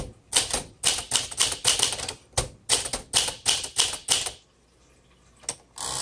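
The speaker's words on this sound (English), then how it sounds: "This is gonna be a good book writing typewriter." Close, steady keystrokes from a 1954 Smith Corona Silent Super typewriter, a rapid run of crisp strikes that stops abruptly, then near silence and a couple of final taps, no speech.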